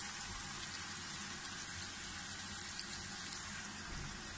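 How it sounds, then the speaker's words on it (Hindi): Water runs into a pan in a home kitchen while chicken tikka cooks for a spicy chicken tikka macaroni dish, a faint, steady pouring hiss that continues unchanged, with no talking. "थोड़ा सा हम इसमें पानी ऐड कर देंगे"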